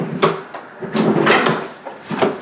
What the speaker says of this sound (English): Door swings closed.